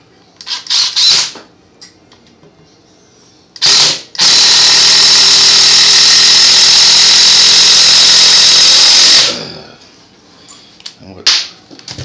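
An impact driver drives a screw into seasoned hardwood in one loud, continuous burst of about five seconds, with brief sharp tool bursts before and after and some quiet moments between.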